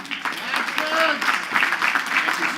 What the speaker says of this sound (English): So please give a big Queens College round of applause to our local council member, Rory Langman.